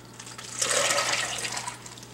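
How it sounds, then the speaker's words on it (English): Aquarium water and a fish are poured from a bag into a bucket, a short, close splashing gush that swells and then tapers away. "Now what we're going to do is simply pour the fish"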